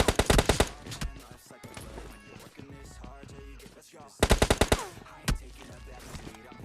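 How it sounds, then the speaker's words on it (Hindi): S686 shotgun blasts in PUBG Lite: a quick cluster of loud, sharp shots at the start and another burst near the end, with game sounds and movement noise in between. "शॉटगन से शॉर्ट रेंज में मारेंगे"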